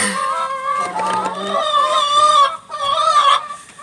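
Several chickens cluck and squawk close by, their busy overlapping calls rising and falling without pause.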